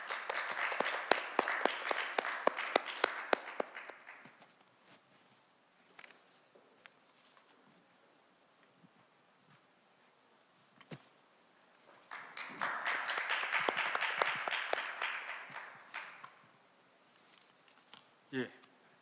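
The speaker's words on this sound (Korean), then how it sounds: "큰 박수 부탁드리겠습니다." Applause from a forum audience at a Jeju science and technology diplomacy session, two rounds of moderate clapping filling a hall, the first fading after a few seconds and the second swelling later, with scattered taps between.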